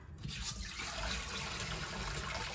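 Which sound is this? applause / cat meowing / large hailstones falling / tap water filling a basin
tap water filling a basin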